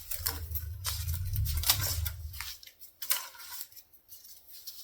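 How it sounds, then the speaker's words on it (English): Scissors snip through a dry garlic stem in a few crisp, close cuts, with a low rumble underneath early on that then drops away, leaving quieter rustling. "I'm gonna make a cut so I have a stem that's about my fist"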